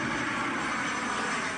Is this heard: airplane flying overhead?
yes